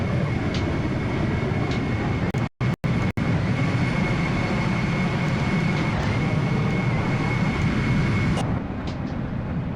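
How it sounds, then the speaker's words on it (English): A KLM Embraer E175 airliner touches down at Manchester, giving a loud, steady broadband cabin roar with rumbling runway noise. A few sharp dropouts cut in midway, and the rush eases slightly near the end. "that's very good butter landing into Manchester"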